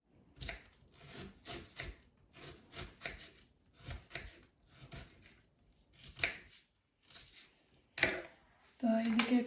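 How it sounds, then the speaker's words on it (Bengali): Onions being chopped on a board while preparing a Sylheti akhni, with repeated close knife strokes in quick uneven bursts separated by short pauses. A voice speaks briefly at the end. "তো এদিকে পেঁয়াজ কাটলাম,"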